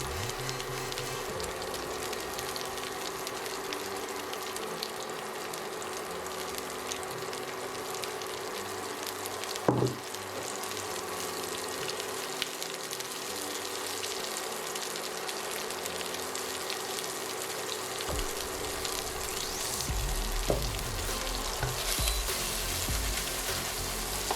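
Shrimp fry with garlic in a skillet, giving a steady, even sizzle that crackles continuously and stays close throughout, with one brief clatter partway through.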